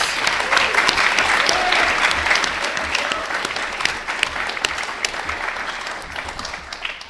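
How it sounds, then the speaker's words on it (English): An in-person audience at a carbon removal challenge showcase applauds the competition finalists, sustained dense clapping that fills the room and gradually thins and softens toward the end. "One more round of applause for these finalists."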